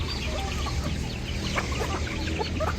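Backyard chickens gathered at a door waiting for food, clucking continuously at close range in a busy overlapping chorus with no talking.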